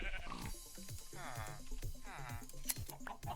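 Bleats from a sheep changeling mob in a Minecraft-style block game, two wavering bleats sounding clearly over quieter background game noise.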